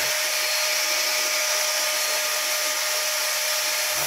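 A vacuum cleaner runs steadily during aircon cleaning, giving a loud, constant airy whine that sounds close by and holds without a break.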